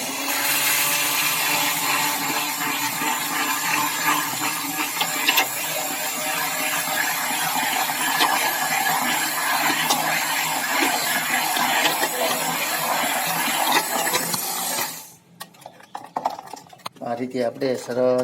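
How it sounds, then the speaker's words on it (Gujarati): A blender whirs loud and steady for about fifteen seconds, mixing a homemade chocolate ice cream base with chocolate powder, then cuts off, leaving scattered clatters and handling sounds. "સરસ રીતે બ્લેન્ડરથી તેને મિક્સ કરી લઈએ"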